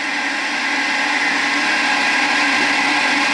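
Feed gearbox on a Schaublin lathe running at a steady, moderate level, giving an even mechanical whir and hum with no talking.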